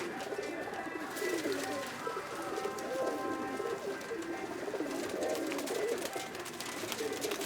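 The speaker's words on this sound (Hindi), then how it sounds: "परी पैकर ब्रीड के कबूतर हैं ये सारे।" Pari Packer breed pigeons cooing together nearby, overlapping soft throaty coos rising and falling continuously, with faint background voices.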